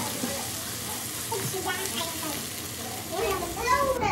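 Tomato masala sautéing in a pan for Goan stuffed squid, a steady moderate sizzle with stirring scrapes building toward the end, faint voices in the background.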